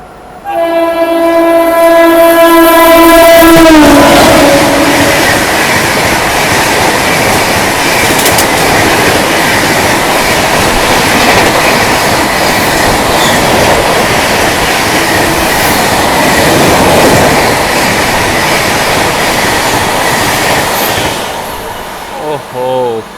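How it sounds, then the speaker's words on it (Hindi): The Mumbai Tejas Rajdhani Express passes at speed near Bharatpur Junction, opening with a long loud horn blast, then a roaring rush of wheels and carriages that keeps on loudly for most of the pass and fades near the end. "लो भाई साहब वो आ रही है अपनी मुंबई तेजस राजधानी एक्सप्रेस"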